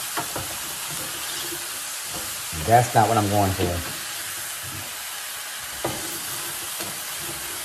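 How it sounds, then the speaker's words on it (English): Mushrooms and vegetables saute uncovered in a pan, giving a steady, soft sizzling hiss throughout, with a brief stretch of speech over it in the middle. "When you saute your vegetables, if you cover it up, it's going to steam and not saute."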